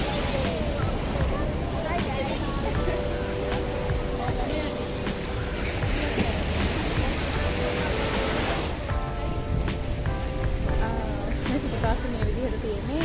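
Sea waves breaking along the shore at Galle Face in Colombo, a steady continuous wash of surf with crowd noise and voices mixed in throughout, a carnival setting nearby.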